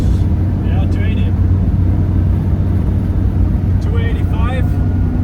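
Dodge Ram TRX, a 707 hp 3.5-ton pickup truck, cruising at around 285 km/h on a German autobahn in eighth gear, with loud steady engine drone and road and wind roar throughout, someone speaking briefly over it.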